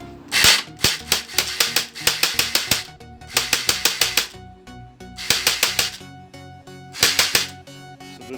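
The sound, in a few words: Desert Eagle toy gel blaster firing fully automatic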